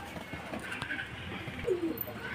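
Pigeons of a good breed coo softly in a loft, a few low cooing phrases and faint chirps over steady background noise, with no talk.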